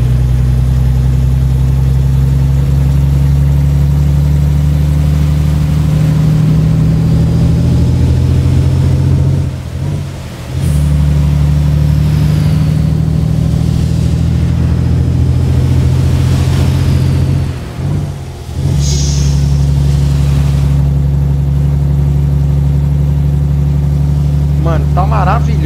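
Renault Magnum truck in Euro Truck Simulator 2 hauling a bitrem, its deep diesel engine droning loud and steady with two brief dips in revs, like gear shifts, a low rumbling hum dominating throughout.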